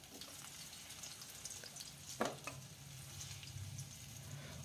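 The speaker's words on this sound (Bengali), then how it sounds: "আর এইভাবেই আলুটাকে লাল করে ভেজে তুলে নিতে হবে।" Potato pieces fry in oil in a pan, a soft, steady sizzle with a brief louder crackle or stir near the middle, heard alone at low volume.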